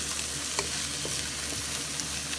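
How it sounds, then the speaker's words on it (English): Garlic sautés in a hot pan with a steady, moderately loud sizzle and a few faint utensil clicks, no talking. "Now we'll add garlic. Okay, cook it for another minute."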